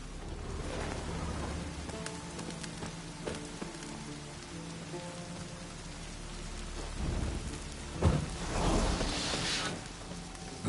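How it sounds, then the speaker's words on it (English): Steady rainfall from a thunderstorm in the video game Witcher 3, with a rolling thunder crash swelling near the end over a dense hiss of rain and faint tonal game ambience. "Looks like rain."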